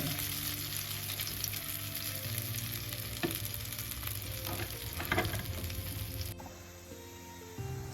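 Masala-coated whole fish frying in oil on a tawa, a loud continuous sizzle with occasional scraping and clinks, close up, easing slightly near the end and with no voices.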